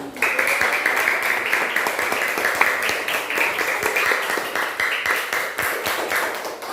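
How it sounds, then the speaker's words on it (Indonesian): A classroom of young students clapping for a classmate at a teacher's request, a dense, steady patter of many small hands that carries on evenly from start to finish, fairly close and without talk. "tepuk tangan untuk temannya."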